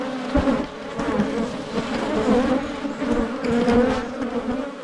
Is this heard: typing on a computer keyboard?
no